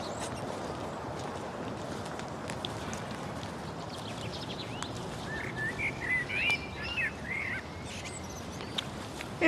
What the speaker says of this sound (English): I can hear the bird song.